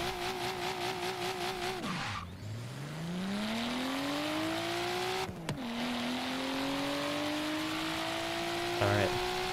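An R32 or R34 car in Forza Horizon 3 revs near top speed, engine pitch climbing in long sweeps, dropping sharply at gear shifts and rising again, loud and close throughout.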